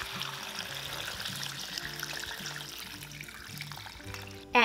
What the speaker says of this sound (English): Pour in the water.